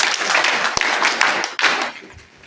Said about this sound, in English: Let us clap for her.